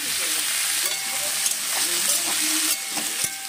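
Flat beans and mixed vegetables sizzle and hiss steadily in a pan while being stirred, with scraping clinks over a continuous frying crackle.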